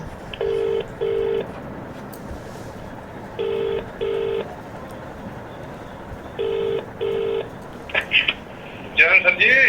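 Touch-tone telephone keypad dialing while placing a call: three pairs of steady, clear DTMF beeps in a regular rhythm over a faint hiss, followed by a few short, brighter electronic chirps at the end.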